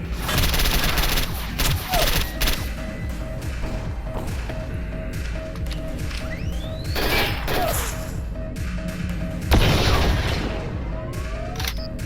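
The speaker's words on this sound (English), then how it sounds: "Oh, that's a gunshot." Dense gunfire in the video game STALKER Anomaly: rapid bursts, booming shots and crashing impacts, loud and continuous throughout with heavy rumbling under the shots.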